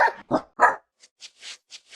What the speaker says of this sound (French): Sont vraiment très chiens en fait, même si c'est un loup, ça fait très bébé chien.